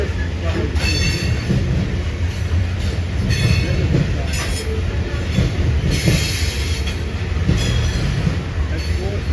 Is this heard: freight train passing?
yes